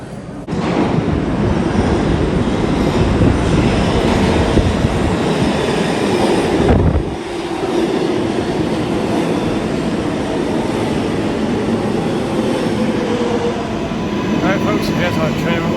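A New York City 7 subway train rumbles loudly and steadily for about sixteen seconds, with a grinding, roaring rush of wheels on rail and a brief dip in the noise partway through.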